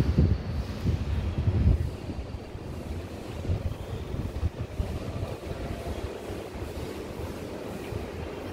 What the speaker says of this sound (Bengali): গ্যারেজের তলাটা যে কি ঠান্ডা, আর এখান দিয়ে হাওয়া আসছে